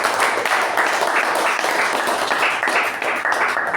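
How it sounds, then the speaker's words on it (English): Audience at a Toastmasters meeting applauding a member, a steady dense round of clapping from many hands, fairly close and continuous throughout. "let's give a big round of applause to Shreya for that"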